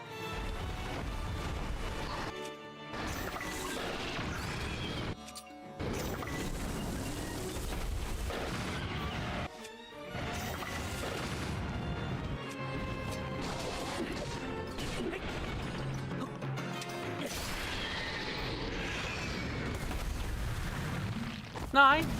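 Repeated crashing explosions and impacts in a video game fight against crawlers, a dense chaotic barrage with brief gaps, as a player talks throughout.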